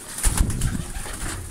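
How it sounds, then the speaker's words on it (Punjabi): Pigeons in a kept loft cooing, several low throaty coos close by in quick succession, with faint wing flutter and no talk. "ਬੜੇ ਜ਼ਬਰਦਸਤ ਕਬੂਤਰ ਨੇ, ਸਾਂਭੇ ਵੀ ਚੰਗੇ ਨੇ"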